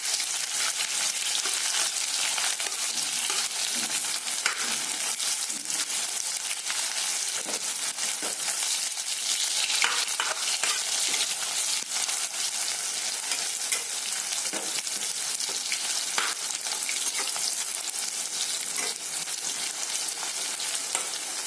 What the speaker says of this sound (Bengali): কুচি করা পেঁয়াজটাকে একটু ভালো করে ভাজি দেবো।